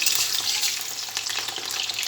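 Bananas fry in a wok and get stirred, making a continuous close sizzle with scraping and crackle bursts as the pieces are turned, and no voices.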